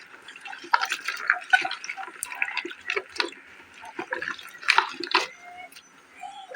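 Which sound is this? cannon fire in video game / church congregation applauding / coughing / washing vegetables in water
washing vegetables in water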